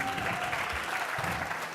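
Steady, dense applause from an audience at a Founders Live London startup pitch event, filling the whole stretch at an even level with no pauses.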